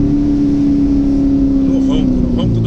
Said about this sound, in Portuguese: No ronco do motor, nesse Corvette